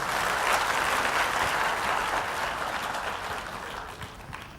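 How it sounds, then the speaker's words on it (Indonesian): Church congregation gives God loud, lively applause, a dense continuous roar of clapping that holds steady and then slowly fades slightly. "Beri tepuk tangan yang meriah buat Tuhan"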